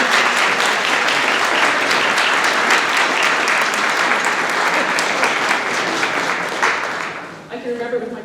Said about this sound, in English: how about a round of applause for your parents?